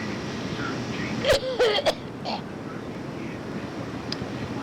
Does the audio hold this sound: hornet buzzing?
no